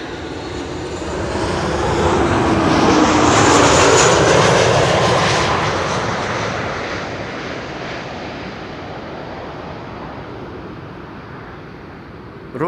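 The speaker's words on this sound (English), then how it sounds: "This is KLM flight 924 arriving from Edinburgh" A KLM airliner arriving from Edinburgh lands at Amsterdam Schiphol, its engine roar building to a loud peak as it passes close, then slowly fading into a long rumble.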